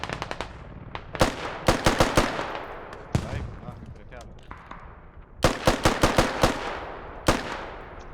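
Rifle gunfire in the Squad military shooter game: sharp bursts of shots in rapid clusters, some near and loud, others single cracks, separated by quieter stretches with faint background battle noise.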